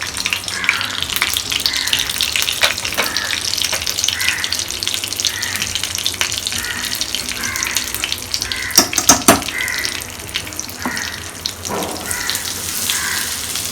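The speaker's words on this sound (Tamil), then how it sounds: "ஸோ இதை வந்து இந்த எண்ணெயும் நெய்யும் கொதிச்ச உடனே அதில் போட்டுடுங்க அப்படியே" Urad dal, mustard seeds and asafoetida frying in hot oil and ghee, a continuous crackling sizzle with scattered pops and spatters, close and fairly loud throughout.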